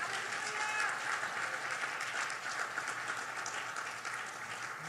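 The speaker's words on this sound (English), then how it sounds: "Clap your hands and give God a praise." A church congregation claps during a worship service, a sustained, fairly even patter of many hands heard at moderate distance, holding steady and easing slightly toward the end.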